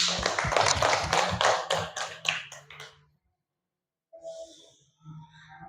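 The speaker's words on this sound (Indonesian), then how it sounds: "Beri tepuk tangan" A few people clap briefly for a classmate in a tajwid lesson, a quick run of sharp claps fading out within three seconds, followed by silence and faint soft sounds.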